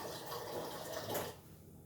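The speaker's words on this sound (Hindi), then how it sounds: "और इसमें थोड़ा सा पानी और डालूँगी।" Water is poured into buttermilk in a home kitchen, a short soft splashing trickle that runs for over a second, then stops, with no talk over it.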